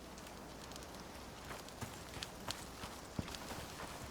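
Horse hooves clip-clopping in the survival video game Icarus, a scattered run of light hoof impacts over a steady hiss of wind or rain, fairly quiet, no talk.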